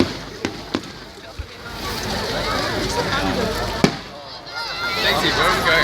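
Fireworks going off on bonfire night, with a few sharp bangs and crackles over steady outdoor noise, and people talking in the background.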